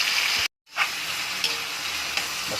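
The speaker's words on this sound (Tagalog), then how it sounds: "Halo-haloin lang natin yan para hindi masunog yung sibuyas sa bawang." Onion and garlic sautéing and being stirred in a pan for ginisang mustasa, with a steady close sizzle. The frying noise briefly drops out, then returns, punctuated by a few light utensil scrapes.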